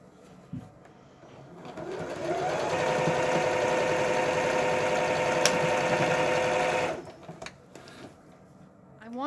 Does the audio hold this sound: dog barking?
no